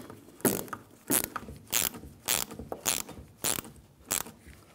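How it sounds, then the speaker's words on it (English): A 16mm ratcheting wrench tightens the nut on a rear shock absorber of a Nissan Altima, giving about eight sharp, close ratchet clicks in a steady rhythm. "We'll use our 16mm ratcheting wrench again and our 1/4 inch."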